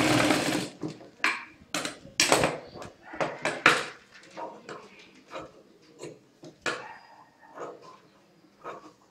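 A sewing machine stitches a blouse seam in short bursts of rapid mechanical whirring, with pauses and a few clicks between runs, close and fairly loud, while someone talks over parts of it.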